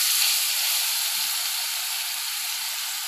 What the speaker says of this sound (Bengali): আগে থেকে পেঁয়াজ, আদা, রসুন সব বেটে রেখেছিলাম, দিয়ে দিলাম।